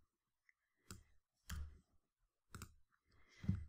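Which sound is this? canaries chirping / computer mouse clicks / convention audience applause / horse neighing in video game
computer mouse clicks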